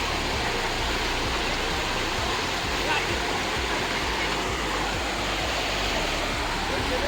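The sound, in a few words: river flowing on a waterfall trek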